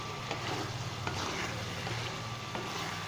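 Minced beef with white pepper and garam masala sizzling in a pan while being stirred, a continuous close fry with several scraping strokes of a spoon cutting through at intervals.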